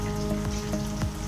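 Hot oil sizzles steadily as thin potato slices fry for spicy potato chips, a dense, close crackling hiss with small pops throughout the short moment.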